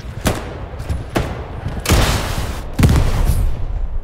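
Gunfire in the World War II shooter Hell Let Loose, four loud, close shots spaced about a second apart, each a sharp crack with a short rumbling tail over a steady background of battlefield noise.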